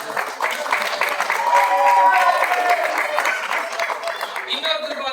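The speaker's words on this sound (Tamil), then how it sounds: "யாழினி அவர்களுக்கு மிக பலத்த கரகோஷம்" Warm clapping from the audience at a Tamil debate event for speaker Yazhini, a busy continuous wash of hands that swells in the middle and carries on at a fairly close, lively level.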